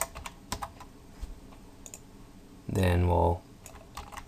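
Keys click on a computer keyboard in light, scattered taps at a fairly close distance while a voice speaks briefly in the middle.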